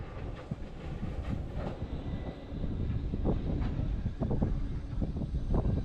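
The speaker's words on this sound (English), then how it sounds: "I arrived just in time to see a 495 coming up the rack railway from Štrba" A class 495 electric train climbs the Tatra rack railway from Štrba in the High Tatras, a low rumbling, grinding drone that swells steadily louder as it approaches, with irregular mechanical knocks over the rolling noise.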